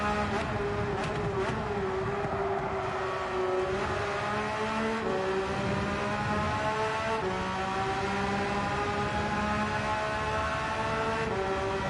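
A racing car engine in Gran Turismo 7 roars steadily throughout, its pitch rising and falling with gear changes, loud and continuous with no talking.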